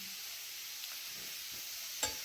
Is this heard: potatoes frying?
yes